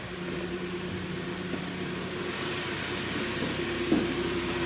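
A Kia Sorento with a G4KE engine, recently repaired for piston knock and high oil use, idles steadily, heard from outside the car as a faint, even hum with a small bump near the end.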